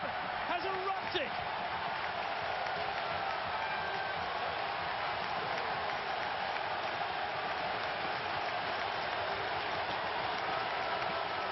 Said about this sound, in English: ovation from the United States, and this crowd has erupted